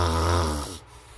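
A person snores after taking out an anti-snoring device, one loud, close, buzzing snore that vibrates for more than half a second and then stops abruptly, leaving quiet.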